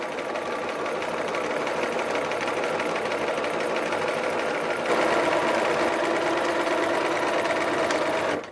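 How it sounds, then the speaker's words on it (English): A sewing machine runs continuously, stitching a quarter-inch seam on knit dress lining, a loud steady rapid mechanical whir that picks up slightly in speed and intensity toward the end. "So just start sewing."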